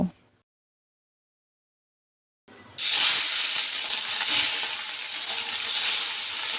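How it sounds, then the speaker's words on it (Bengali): Katla fish pieces frying in hot oil: after near silence, a loud, steady sizzle and hiss bursts in and continues close up, swelling slightly, with no talk. "সেই ফাঁকে মাছগুলোকে ভেজে নেব"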